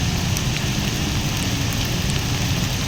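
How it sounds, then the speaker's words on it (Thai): Heavy rain pouring down during flooding in Korat, Thailand, a dense, loud, continuous hiss of drops hitting surfaces with no let-up. "ฝนถือว่าหนักสุดในรอบหลายปีเลยครับ"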